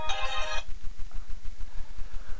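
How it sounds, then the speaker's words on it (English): A mobile phone ringtone goes off loudly for about half a second, a bright electronic melody cut short, followed by quiet room noise. "that is my phone"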